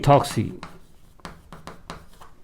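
Chalk or marker strokes on a classroom board during an organic chemistry lesson, a loud scrape at the start and then a run of short, crisp taps and scratches spaced through the clip, a voice speaking briefly at the start.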